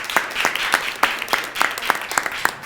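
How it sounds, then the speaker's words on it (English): A small audience at a body language show claws out a brief round of applause, with a few people clapping in a loose, uneven rhythm and distinct individual claps standing out at close range. "big round of applause for Lynette's question"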